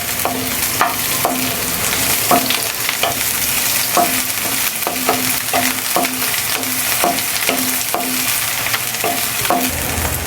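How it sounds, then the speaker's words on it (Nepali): Boiled eggs deep frying in hot oil with onion, a steady loud sizzle and crackle with regular scraping stir strokes, no talking. "म यसलाई मजाले डिप फ्राई गर्छु रातो हुन्जेल।"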